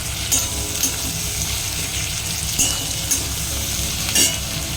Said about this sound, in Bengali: পেঁয়াজটা একদম লাল লাল করে ভাজবো, বেরেস্তা করে নেবো।